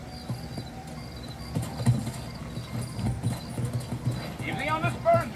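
Horse hooves clip-clop steadily in a Red Dead Redemption western setting in New Austin, a close, rhythmic trot running under a man's spoken dialogue, with a horse's whinny rising near the end.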